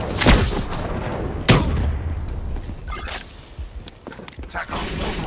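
Gunfire and a grenade blast in a shooter video game on the map Havoc, with sharp loud bursts near the start and around one and a half seconds, followed by a dense rumble of battle noise and scattered shots.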